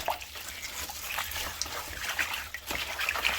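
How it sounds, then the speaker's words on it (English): Freshly picked garden lemongrass is washed by hand in a container of standing water, with continuous trickling, splashing and dripping sounds close to the microphone and no talking. "So after picking the lemongrass, I have to wash them."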